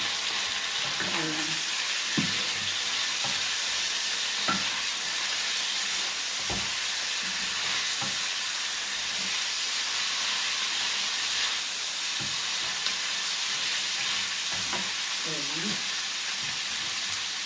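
Cubes of beef liver fry in a hot pan with a steady, loud sizzle throughout. Occasional stirring clinks and pops sit on top, and faint speech-like sounds are present.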